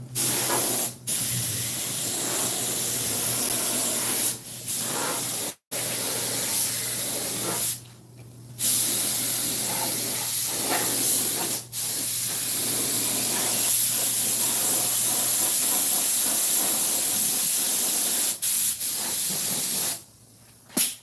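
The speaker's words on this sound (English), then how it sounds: "This is just Rust-Oleum paint. It ain't automotive paint. It works real good on raw metal though." Rust-Oleum spray paint hisses from a can onto raw metal during a 1950 Ford truck seat restoration, coming in long, loud, close bursts broken by several brief pauses.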